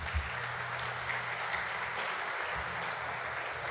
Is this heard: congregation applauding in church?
yes